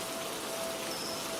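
Steady rain falls as a horror story sound effect, a continuous dense hiss of drops on surfaces with no breaks, fairly close and even in level.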